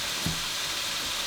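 Bacon frying in a pan for potato salad, a faint, steady broadband sizzle and hiss running throughout with a brief low thump near the start, no voices.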